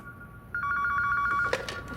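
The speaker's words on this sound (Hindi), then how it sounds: "हमें लैंडलाइन पर एक फोन आ रहा है" A landline telephone rings with a rapid trilling bell, starting abruptly and continuing steadily for over a second before other sounds cut in.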